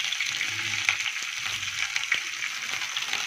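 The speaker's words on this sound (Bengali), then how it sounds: "দেখো আমগুলোকে ভেজে নেওয়া হচ্ছে" Raw mango pieces frying in a pan, giving a steady close hiss and sizzle that runs the whole time, with faint occasional stirring taps and no voices.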